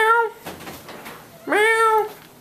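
Two drawn-out, wavering meows with a rising then falling pitch, separated by a short pause. They sound like a voice imitating a cat, loud and close.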